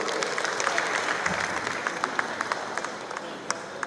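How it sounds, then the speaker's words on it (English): Scattered clapping from a crowd, fairly faint and distant, with individual claps standing out. "Please give a good round of applause."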